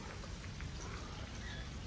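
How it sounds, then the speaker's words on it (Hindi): Light rain falling on an evening in a rainy day setting, a faint, steady patter of fine drops with an even hiss and no pauses. "बारिश भी हो रही है, बहुत तेज़ तो नहीं बट हो रही है।"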